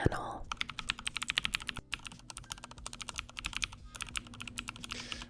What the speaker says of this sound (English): ASMR typing.